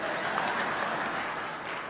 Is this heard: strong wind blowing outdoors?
no